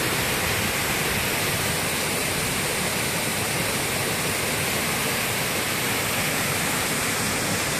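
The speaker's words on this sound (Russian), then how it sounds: "Шум, конечно, стоит, даже сверху слышно, как все бурлит." A full mountain river rushes and churns through the Agara gorge near Kolotauri in Adjara, a dense, steady roar of broadband water noise that holds unchanged throughout with no voices.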